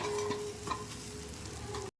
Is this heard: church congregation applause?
no